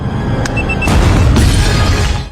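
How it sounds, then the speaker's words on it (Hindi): A bomb fixed to a ceiling goes off in the spy film Salt (2010), a loud deep boom with a crashing, shattering burst of debris that swells and rumbles before cutting off abruptly. "धमाका कर देती है, जिससे रशियन प्रेसिडेंट नीचे टनल में आ गिरते हैं"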